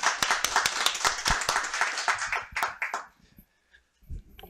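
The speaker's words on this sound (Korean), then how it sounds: "많은 박수 부탁드리겠습니다." Audience applause at a policy seminar lecture fills the room with dense, steady clapping for nearly three seconds, then thins into a few scattered claps and fades out to near silence.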